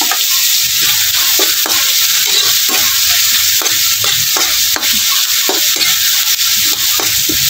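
Tomato and ginger sautéing in a pan for octopus adobo, a loud continuous sizzle broken by repeated scraping strokes of a spatula, with no talk.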